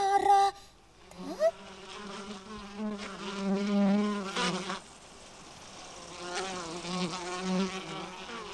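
A bee buzzing close by in a garden, a continuous droning hum that rises and falls in pitch as it moves, steady for several seconds with a brief pause midway.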